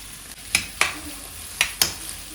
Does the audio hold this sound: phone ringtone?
no